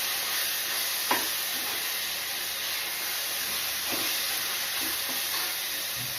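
Okra fries in a pan with a soft, continuous sizzle and steady hiss, fairly faint and close, with a few light stirring clicks and no talking.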